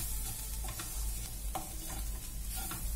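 Raw papaya curry being stirred in a pan, a steady scraping and shuffling over a constant background sizzle, with several sharper spoon strokes spread across the few seconds, close and moderately loud with no talking.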